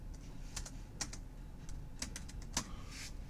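Soft, scattered keystrokes on a computer keyboard while entering text in editing software, quiet and close over a low steady room hum, with irregular clicks and no talk.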